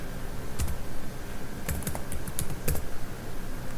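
Code being typed on a computer keyboard, with quick irregular clusters of sharp key clicks and a few louder strikes over a steady background hum, close and clear, no talking.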